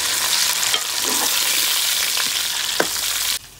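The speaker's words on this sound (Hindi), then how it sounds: "अदरक लहसुन का पेस्ट भी अच्छी तरह फ्राई हो चुका है तो अब मैं इसमें डालूंगी चिकन" Chicken pieces frying in ginger-garlic paste in a pan, a steady loud sizzle running throughout with a few soft stirring scrapes, cutting off abruptly near the end.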